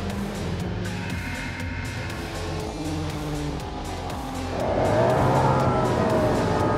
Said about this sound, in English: I'm really stoked to be able to drive the V8 Supercar here at VIR.